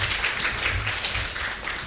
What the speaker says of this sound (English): Give Sam applause